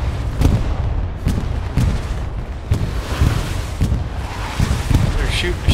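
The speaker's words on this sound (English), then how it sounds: "They're shooting the shit out of it" Repeated gunfire and heavy booming rounds hammer at a tank in a war video game, a steady barrage of loud impacts spaced through the clip over wind-like rumble.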